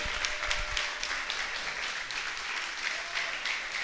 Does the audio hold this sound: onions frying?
no